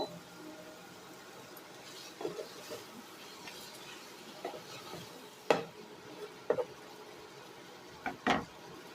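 Chicken leg masala being stir-fried on a low flame, heard as a few faint, scattered spatula scrapes against the pan over a quiet, steady low background.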